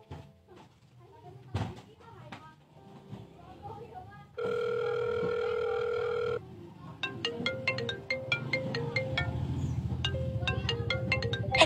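A phone rings with an incoming call, a sustained electronic ringtone tone followed by a rapid repeating melodic ringtone pattern, with brief quiet voices and rustling before it.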